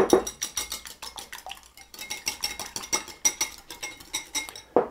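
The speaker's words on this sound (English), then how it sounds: "I'm going to break that up with the whisk." A whisk clinks rapidly against the side of a bowl, beating an egg in a quick, steady rhythm up close with no talking.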